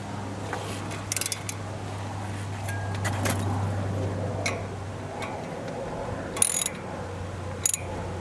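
A ratchet and socket turning the front brake caliper bolts on a 2019-2026 Lexus UX, irregular quick clicking bursts over a steady low hum in a quiet garage.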